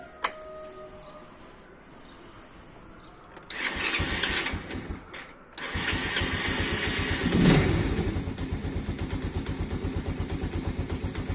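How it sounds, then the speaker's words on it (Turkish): A motorcycle's electric starter cranks in a long stretch, then the engine catches and settles into a steady, loud, pulsing idle. "Marşın nasıl bastığını duyun diye."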